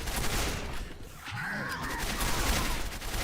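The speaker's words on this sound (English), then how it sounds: "I've noticed that the Gatling turrets" A Gatling turret fires in Quake 4, with dense rapid-fire bursts of gunfire rattling almost continuously and briefly dipping in the middle.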